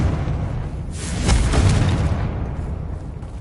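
A fiery Confringo spell blast in the Hogwarts Legacy video game on PS5, a single swelling boom with a crackling burst at its peak, loud and near, fading into a lingering rumble.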